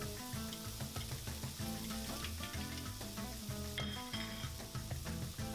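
Four cloves of chopped garlic sizzle loudly in olive oil in a paella pan for seafood paella, a close steady frying crackle with repeated stirring scrapes and occasional utensil clinks against the pan.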